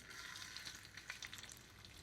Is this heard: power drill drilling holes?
no